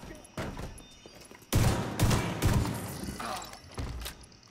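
Shotgun blasts from the looter shooter The Division 2, several loud booming shots in quick succession with echoing tails, ringing out mid-firefight in a game setting, no talk over them.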